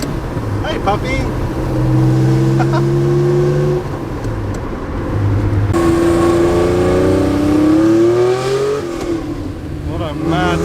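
A 1974 Porsche 911S engine roars loudly up close, revving and climbing through gears with rising and falling pitch, voices briefly audible over it.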